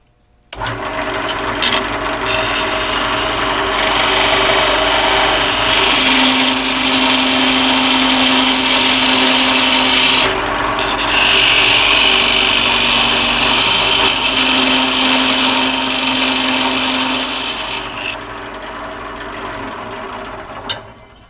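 A curved bevel parting tool cuts into spinning wood on a lathe, giving a steady loud whirring scrape that runs for most of the stretch, with pitch shifts as the cut deepens and eases before stopping near the end.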